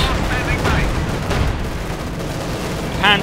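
Battle noise from Company of Heroes 2 during a 1v1 match, with gunfire crackling beneath constant loud mixed game sound and occasional sharp effects.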